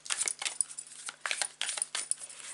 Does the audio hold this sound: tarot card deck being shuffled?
yes